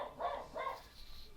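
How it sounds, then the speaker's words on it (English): A pet dog barks twice in the distance, faint and muffled, with a quiet gap after the second bark. "oops, my dog's barking."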